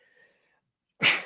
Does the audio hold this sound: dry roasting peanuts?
no